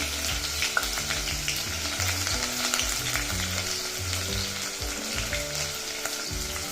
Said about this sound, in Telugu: నూనెలో వీటిని దోరగా వేగనిద్దాం ఉల్లిపాయ దోరగా వేగిన తర్వాత